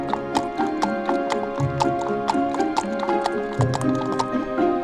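Toy horses fleeing in a Peppa Pig toy story make a run of clip-clop hoofbeats with a brief whinny, close and steady, over light background music.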